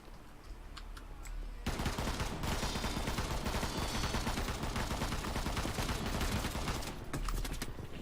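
Sustained loud automatic gunfire in the video game World War 3, a dense continuous stream of rapid shots lasting several seconds with a quieter lead-in and tail.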